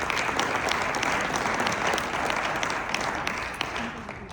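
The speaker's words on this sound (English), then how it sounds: "So a big applause for you" A conference audience in Las Vegas applauds, a dense sustained burst of clapping that fills the clip and tapers slightly toward the end.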